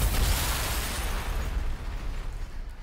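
A frag grenade goes off in the Warhammer 40,000: Sanctus Reach strategy game: one broad, rumbling blast that rolls and fades slowly over about three seconds, with no voices.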